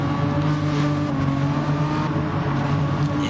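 Engine of the number 92 Steel Seal race car in a sim racing game at the Autopolis circuit, a loud, steady droning whine held at near-constant pitch throughout, with no talk over it.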